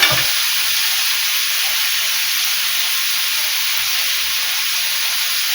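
Chicken sizzling steadily in a hot grill pan, a continuous bright hiss with faint crackles, close and even, no talking over it.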